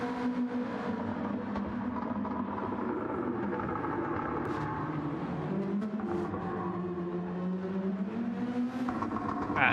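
Ferrari 296 race car engine at Suzuka in a racing game, a steady droning roar with shifting pitch as several cars run together, continuous and moderately loud with no voices.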